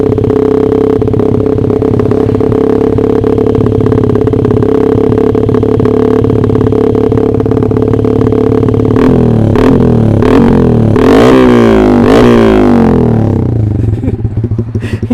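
Loud, close motorcycle engine with upgraded ignition idling roughly, then revving up sharply several times with rising and falling pitch before settling back.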